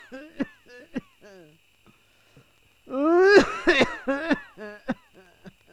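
An elderly man coughs in harsh, strained bursts, the loudest fit coming mid-clip amid scattered smaller coughs and breaths, with a voice speaking between the coughs.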